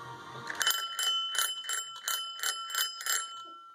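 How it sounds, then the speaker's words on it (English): A bicycle bell rings out in a quick series of about eight bright, metallic dings, close and clear against a quiet background. "And here's the bell that Race showed me."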